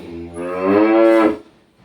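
Cows and calves moo loudly at evening feeding time on a farm, one long, rising bellow lasting over a second, near and clear, with no talking.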